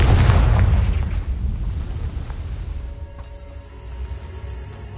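Confringo blasting spell explosion in a Harry Potter video game: a loud, close boom with a heavy low rumble at the start, decaying into crackling debris and fading noise.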